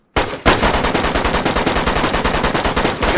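Rapid, loud automatic gunfire in the DayZ video game, a continuous burst of closely spaced shots lasting about three seconds while shooting at a zombie.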